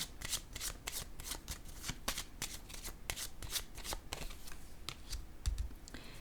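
Tarot or oracle cards are shuffled and laid down during a card reading, a rapid run of crisp riffling snaps and soft slaps close by, with no voices over them.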